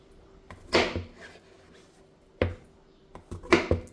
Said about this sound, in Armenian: Հիմա սունկն եմ կտրատում,